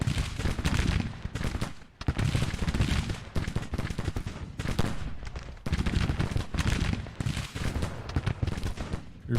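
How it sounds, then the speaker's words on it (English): Musket volleys from Civil War troops engaging in battle in Grand Tactician: The Civil War, dense continuous crackling gunfire that swells and breaks off in repeated bursts, fairly loud with no voices. "Might be just firing into the 2nd Brigade unopposed."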